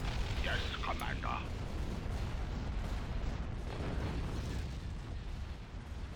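Starship weapons fire in Star Wars: Empire at War, with a continuous rumble of distant cannon bursts and explosions during a space battle, and a brief voice near the start over the din.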